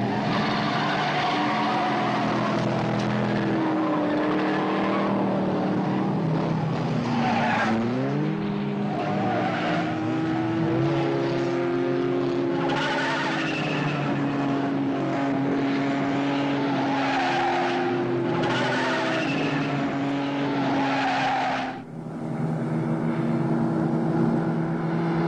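Vintage 1954-era race cars roar past in a road race, engines droning loudly and continuously with rising and falling pitch as they pass, with repeated tire skids and squeals along the way.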